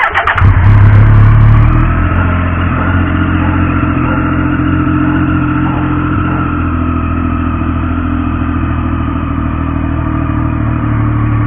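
A Triumph Daytona 675R sport motorcycle engine fires up with a loud rev, then settles into a steady, throaty idle in neutral that runs on close by.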